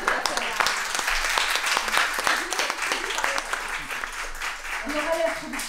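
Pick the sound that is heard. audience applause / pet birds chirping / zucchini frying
audience applause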